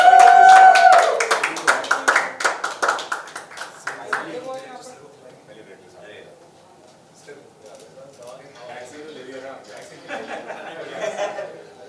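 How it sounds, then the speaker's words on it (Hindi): Clapping from an audience at an interview event with actors, loud at first with quick uneven hand claps, then fading out after a few seconds into chuckles and murmured talk. "तालियां कुछ तो बजाओ"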